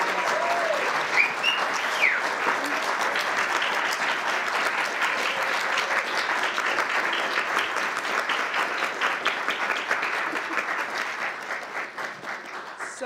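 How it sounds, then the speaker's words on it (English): A conference audience breaks into a sustained round of applause, dense steady clapping from many hands that holds strong throughout and only begins to thin slightly near the end. "Can we have a big round of applause before we go into questions?"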